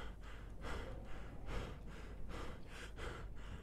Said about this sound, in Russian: Че он дышит?